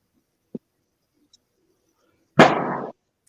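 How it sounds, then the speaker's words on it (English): A single sharp crack of gunfire sounds from a distance, followed shortly by a longer, louder burst that booms and rumbles out for about half a second. A faint pop falls between them, with no voices. "She's got gunshots going on."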